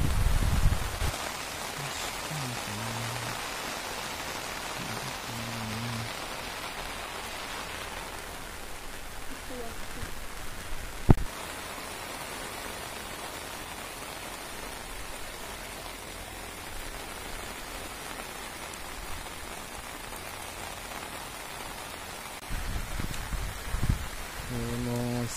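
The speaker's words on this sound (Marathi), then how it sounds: "पाऊस तर आलोय खूप सारं मोठं" Heavy monsoon rain in the Konkan countryside near Poladpur, Raigad, pours as a dense, continuous hiss on surfaces, with a sharp knock midway and low murmuring voices at the beginning and end.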